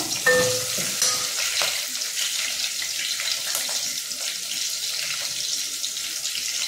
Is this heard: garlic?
yes